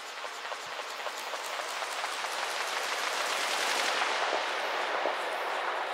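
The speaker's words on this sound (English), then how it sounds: "you can hear the Zen Delay working its magic" Tape-style ping-pong delay smears a dense, crackling ambient field-recording mix into a steady wash of rapid repeating ticks and hiss that swells slightly and holds at an even level throughout, with no voices.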